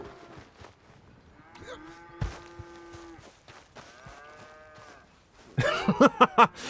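A cow in Red Dead Redemption 2 lowing several times while being milked, long drawn-out moos close by, followed by a louder burst of a few short sharp sounds at the end.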